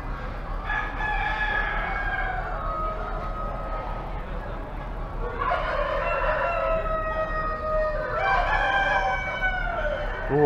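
Several New Hampshire roosters crow in long drawn-out calls, one after another, over a noisy background of clucking hens at a state fair.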